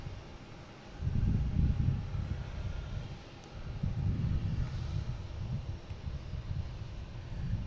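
A Delta airliner arriving at Boston Logan airport, a low, broad jet rumble rising and falling steadily under gusty wind noise, at moderate distance and fairly faint.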